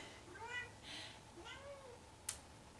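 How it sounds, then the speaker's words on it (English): A domestic cat meows a few times in the background, faint and drawn out, with a brief sharp click near the end. "Please excuse the cat and the baby in the background."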